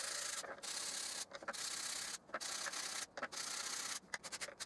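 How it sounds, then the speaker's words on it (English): A steady, high-pitched abrasive whir of an orbital sander with 240-grit paper on end-grain hardwood coasters, broken by several brief pauses and restarts, close and fairly loud. "Then I used my orbital sander with a 240 grit paper."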